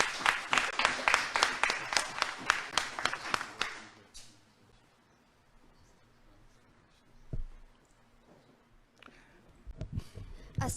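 An award ceremony audience claps in a quick, rhythmic run of distinct hand claps for several seconds, then stops, leaving a quiet room with a few faint sounds and stray claps near the end.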